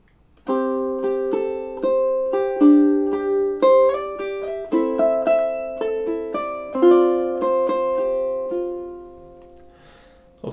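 A ukulele plays measures 9 and 10 of a song, clear plucked notes and chords in a slow, steady melodic line, alone and close, then ringing out at the end.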